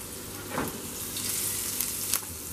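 Garlic sizzles in hot oil in a pan, a steady close frying hiss with a few brief louder bursts of crackle.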